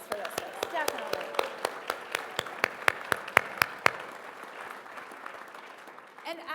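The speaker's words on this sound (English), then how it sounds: "one more round of applause for those folks" An audience at a community event claps in a brief burst of applause that thins out and fades over several seconds.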